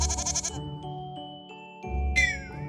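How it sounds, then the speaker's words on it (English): A goat bleats in two short, loud calls separated by a quiet pause, with a music bed running underneath. "G is for goat."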